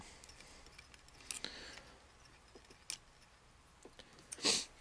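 Quiet fly-tying bench sounds: a few light snips of scissors cutting thread, with faint clicks and one sharper metallic snip near the end, close but soft, and no speech.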